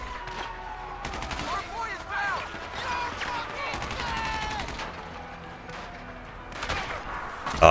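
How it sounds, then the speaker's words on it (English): Rapid bursts of video game gunfire played with a Steam Controller, repeated volleys and shots loud over a continuous background of game sound effects. "Oh, I'm getting shot from behind."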